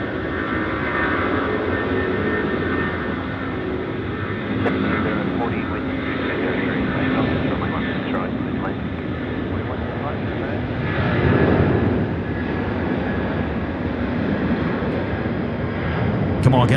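Heavy Maz Cargo jet spooling up for a night takeoff roll on runway 16R at Sydney Airport, a steady loud engine roar that swells toward the end, with someone talking over it.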